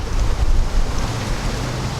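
Gusty wind at the edge of a storm buffeting the microphone in low rumbling bursts, loud and close, with no voices.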